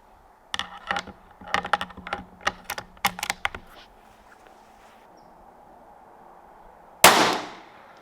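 A Tikka T1x rifle with a 16-inch barrel firing RWS Rifle Match ammunition: a series of light mechanical clicks and taps, a pause, then one loud, sharp shot nearby that fades quickly.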